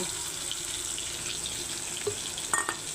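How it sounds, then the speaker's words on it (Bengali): Water poured into a cooking pan of ridge gourd to make a curry gravy, a soft steady trickle and splash throughout with a few brief clinks near the end, no talking. "এখন দিয়ে দিচ্ছি জল ঝোল হওয়ার জন্য"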